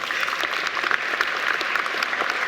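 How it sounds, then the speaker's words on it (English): A university graduation audience claps steadily, a dense, even wash of applause from many hands heard clearly and without a break for the full moment. "Please give me applause."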